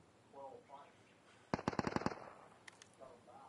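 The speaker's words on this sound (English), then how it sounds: "I don't think they're shooting at me." A burst of automatic gunfire from NPCs in the survival shooter Deadside, about eight rapid cracks at middle distance, with someone speaking quietly before and after.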